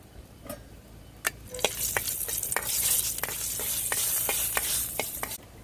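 Dried red chillies hit hot oil in a cooking pot and set off a bright, hissing sizzle that builds and holds, with scattered pops and taps of a stirring spoon, close and fairly loud.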